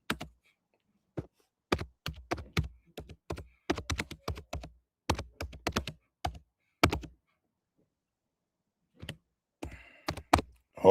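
Someone types on a computer keyboard in irregular bursts of sharp close clicks and key thunks, with pauses between flurries and no talking.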